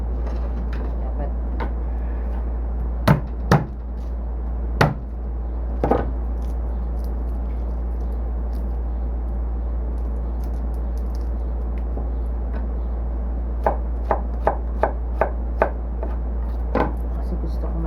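A knife chops garlic on a board in scattered bursts of crisp taps, a few single strikes early and a quick run of rhythmic chops later, over a steady low hum.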